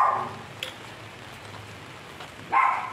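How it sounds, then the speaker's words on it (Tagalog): A sudden heavy rain shower breaks out while someone walks outdoors: a steady hiss of falling rain, with louder rushing bursts at the start and again near the end. "Bilibilisan ko na nga yung lakad Andun na yung momentum Umulan pa."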